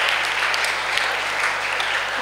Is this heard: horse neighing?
no